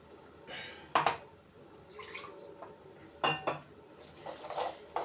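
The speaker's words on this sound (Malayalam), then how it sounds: "അരപ്പ് നന്നായിട്ട് വഴറ്റണം" Ground masala paste for Kottayam fish curry is stirred in a pan with a utensil, a quiet wet scraping broken by several sharp metallic clanks and clinks.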